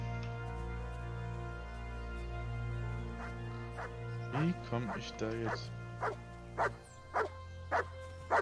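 A dog in the video game Kingdom Come Deliverance gives a short run of yips and barks, then several spaced single barks over a steady low game drone, with someone talking briefly.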